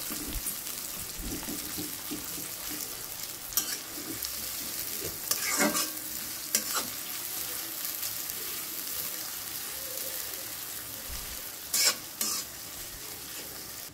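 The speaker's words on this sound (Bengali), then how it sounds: "পেঁয়াজটা আমি দেওয়ার পর খুব ভালোভাবে একটু তেলের ভিতরে ভেজে নেব" Onions frying in hot oil for a Bangladeshi hotel-style koi fish curry, a steady close sizzle broken by a few sharp scraping stirs of the spatula, with no talk.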